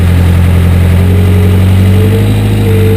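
Excavator diesel engine with its hydraulic pump revved up, a loud, steady, close low-pitched drone holding constant without talk.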